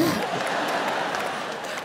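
Audience applause at a comedy show, a steady broadband wash of many hands clapping at moderate volume, fading slightly toward the end, with no clear voices over it.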